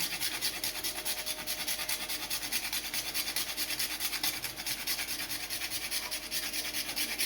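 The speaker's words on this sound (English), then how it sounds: "at this point I'll be grating my fresh nutmeg to my mixture" Fresh whole nutmeg scraped against a grater over a bread pudding mixture, a steady close rasping that repeats in quick even strokes throughout.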